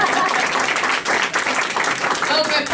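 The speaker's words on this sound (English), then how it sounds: "You can applaud again." Applause from a crowd at a hotel grand opening ceremony, dense steady clapping that fills the whole stretch, with a voice audible beneath it.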